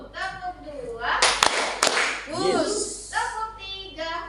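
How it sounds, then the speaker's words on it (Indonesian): Children clap their hands twice in a quick, even rhythm, two sharp close smacks set between spoken instructions and children's voices. "tepuk dua"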